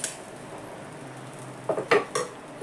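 A roasted chapati is lifted off the pan onto a dish, giving a few light metallic clinks and taps close by, brief and clustered near the end, with no talking.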